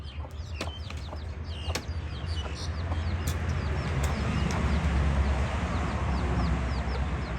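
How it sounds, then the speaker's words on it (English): Chickens cluck and chirp repeatedly over a steady low outdoor rumble, with small high peeps from a chick scattered throughout. "another chicken with her little chick"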